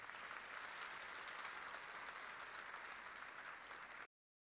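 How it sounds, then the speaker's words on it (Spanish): Faint, distant applause from an audience at a university inaugural class session, a dense, even wash of clapping lasting about four seconds before cutting off abruptly. "Palmas para todos ellos,"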